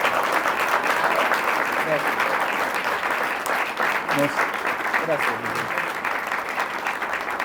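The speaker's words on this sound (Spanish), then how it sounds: "vamos a darle un aplauso a..." An audience at a talk on liberty in Madrid applauds, sustained clapping from a crowd that holds steady throughout, with a voice briefly speaking over it.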